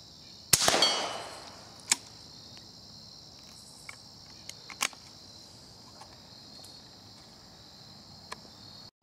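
A .22 Short rifle fires a 710 fps bullet skipping off water: one sharp, loud crack near the start with a decaying tail, followed by a few faint ticks and pops amid steady insect chirping.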